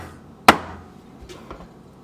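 A cheesecake pan for a Japanese-style mascarpone cheesecake is rapped once against a counter, giving a single sharp, close knock to drive out air bubbles, then fading into quiet room tone with a couple of faint softer bumps.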